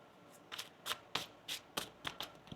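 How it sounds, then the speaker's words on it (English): Tarot cards shuffled by hand up close: a rapid series of about eight crisp riffling bursts in quick rhythm, with no talking. "One more shuffle here."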